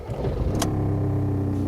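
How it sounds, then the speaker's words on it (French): A Seat Leon 1.9 TD diesel engine turns over briefly with a sharp click and then settles into a steady low idle, heard up close with no talking. "le véhicule démarre normalement"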